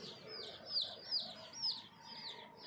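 Black chickens cluck and chirp in repeated short calls while pecking at a bed of yellow turmeric on a farm, moderately near with light background ambience.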